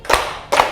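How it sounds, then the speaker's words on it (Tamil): Two sharp hand claps about half a second apart, keeping the beat of a Tamil children's Bible-school song sung at home, close and fairly loud with no voice over them. "கைத்தட்டு."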